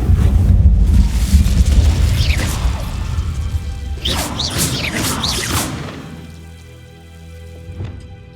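An Incendio fire spell cast in Hogwarts Legacy produces a loud roaring whoosh with a rumbling burst, then brighter swishing flares midway before settling into a low hum and a final small crackle.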